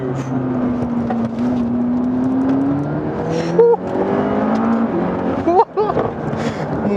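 McLaren MP4-12C accelerating, a loud engine note climbing steadily in pitch with two sharp gear shifts, heard from inside the cabin while people speak over it.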